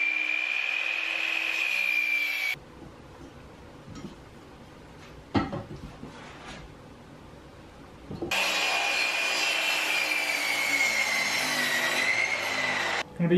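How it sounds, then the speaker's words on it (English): Wooden board being cut to 37 inches in a workshop, a loud steady power-saw whine that stops, followed by quiet scraping and knocks of wood, then the saw whines again. "we want to cut a board that is 37 inches long"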